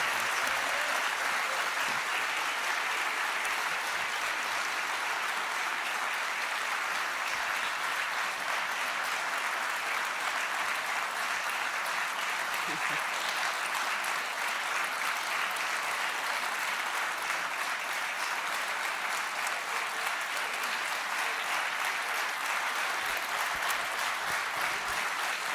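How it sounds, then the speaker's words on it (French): Sustained, dense applause from a large audience after a speech at a business federation conference, a steady loud roar of clapping with no break. "Voilà ce qu'on appelle des applaudissements nourris"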